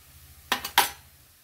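A spoon scrapes and clinks twice against a pan while dry spices are mixed in: homemade masala, garam masala, turmeric and red chili powder. The clinks are brief and close, with a faint low hum underneath.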